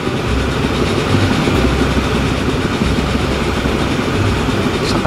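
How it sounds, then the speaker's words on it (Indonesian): A train in the simulation game Transport Fever 2 rumbles steadily through a mountain tunnel, a continuous mid-level rolling drone with faint rail clatter and no talking. "Ini kereta kita nih."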